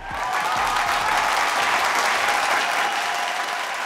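Studio audience applause on a Kannada mothers' game show, a dense, steady burst of clapping that holds at full strength for the whole stretch with no talk over it.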